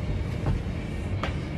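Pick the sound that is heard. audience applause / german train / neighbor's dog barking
german train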